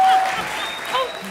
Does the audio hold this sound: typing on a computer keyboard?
no